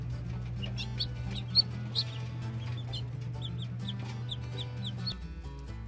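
Chicks in a brooder make soft, repeated high peeps and clucks at an uneven pace over a steady low hum.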